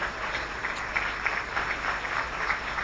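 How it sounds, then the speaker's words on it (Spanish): An audience claps at a speech by a national university president, a steady, moderately distant patter of applause with scattered sharper accents that could be whistles, with no voices heard. "valen por igual los chiflidos y los aplausos en una universidad democrática"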